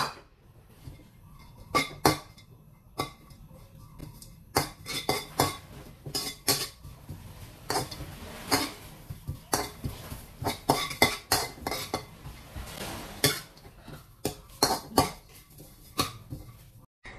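Grated white coconut dry-roasted in a pan while being stirred, with a spoon repeatedly scraping and clinking against the metal in an irregular, close rhythm throughout.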